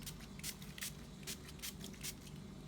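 Alcohol is sprayed from a refillable spray bottle onto newly unboxed items, including a ring light's handle: about seven short, airy hisses come in uneven pumps, close and fairly soft, with no talking.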